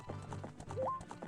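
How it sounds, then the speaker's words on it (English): Epona, the horse in Zelda: Ocarina of Time, gallops with a quick run of rhythmic hoofbeats, close and fairly soft, and a short synthetic whinny-like tone rises partway through. "It's one of the few areas we can actually ride Epona into"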